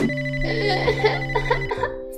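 A cartoon phone's melodic ringtone for an incoming call plays loud and steady over sustained tones for about two seconds, with no talking over it.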